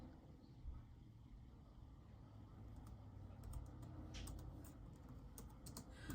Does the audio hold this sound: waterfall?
no